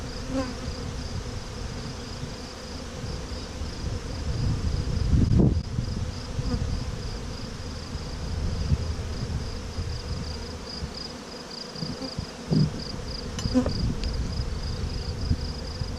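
Honeybees buzz steadily around an open hive during an inspection, a continuous close drone with occasional louder passes and light handling thumps, no talk.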